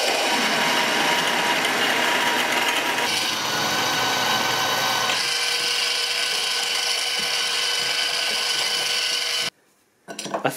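Power drill with a 31/64 bit boring a bolt hole for an HVAC bracket on a 1976 Mazda RX-5 Cosmo restoration, a loud steady whirring grind that shifts pitch partway through and stops abruptly near the end.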